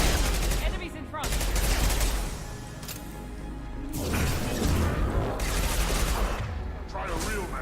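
Sci-fi weapon fire from a firefight in the Mass Effect 2 video game, dense bursts of shots and impacts coming in waves over a loud game soundtrack, with voices partly audible in the mix.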